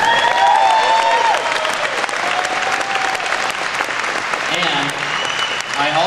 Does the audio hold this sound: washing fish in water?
no